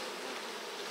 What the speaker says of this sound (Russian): Пришел тут рой кружится